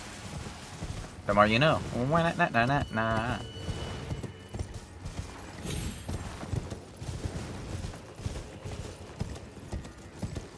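Steady clip-clop of a horse galloping under a rider in the Elden Ring: Shadow of the Erdtree video game, rhythmic hoofbeats running throughout, with a person talking briefly near the start.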